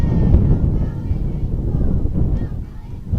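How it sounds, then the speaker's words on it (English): Low, buffeting rumble of wind battering the microphone at an outdoor softball game, continuous and loud throughout, with no clear voices. "so you won't have to just hear the wind flying through"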